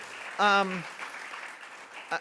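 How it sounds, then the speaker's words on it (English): An audience at a history conference on America's 1776 independence and its legacies applauds with steady, fairly soft clapping that fills the room, and a voice briefly speaks over it. "please join me in giving them a round of applause"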